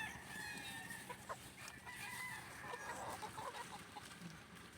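Chickens and young cockerels cluck and chatter close by in a farm range area, with intermittent crowing and rustling, a busy continuous flock sound without talking.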